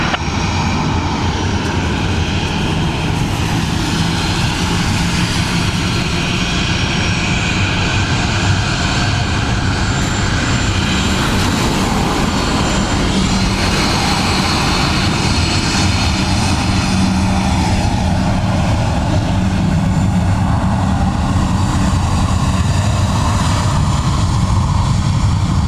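A Ryanair airliner arriving from Liverpool at Dublin Airport gives a loud, sustained engine roar with broadband rushing noise that holds steady and close throughout.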